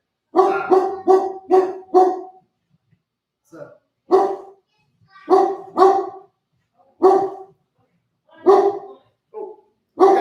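Dog barking loudly and close in repeated volleys of sharp barks, with short gaps and a brief yip, and a voice speaking briefly between barks.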